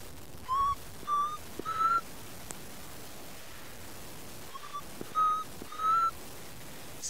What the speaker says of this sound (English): can hear an African black cuckoo whistling in the background